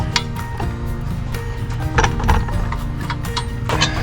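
Big bolt being tightened on a bike carrier at an RV campground, giving steady close mechanical ratcheting and clicking with a few louder knocks, under a constant low background rumble.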